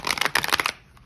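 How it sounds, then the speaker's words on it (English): A quick burst of card shuffling, rapid papery riffling for under a second, close and crisp, then it stops. "Let's shuffle a little bit"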